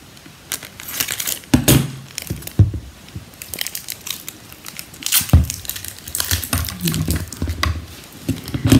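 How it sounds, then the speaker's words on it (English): Tape peeled off a pair of scissors and pressed onto a glass bottle during a papercraft project: close, crackly crinkling and sharp tearing bursts in irregular clusters, fairly loud, with no talking. "Take the rest of the tape off the scissors and pop that one on there."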